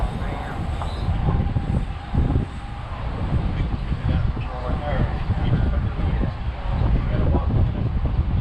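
A tram rolls steadily along its route with a continuous rumble and wind noise, loud and close throughout, with a driver's voice over the noise.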